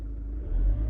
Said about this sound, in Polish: Odpuszczam gaz.